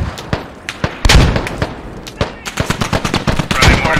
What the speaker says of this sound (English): Is this friendly mortars?